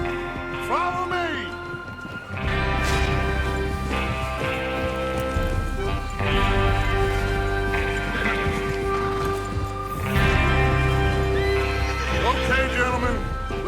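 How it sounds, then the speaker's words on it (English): Horses whinny and gallop in Red Dead Redemption 2 as a gang rides out for a train robbery, with hoofbeats pounding steadily and loud neighs rising at the start and again later, over a music score. "Get your horses ready."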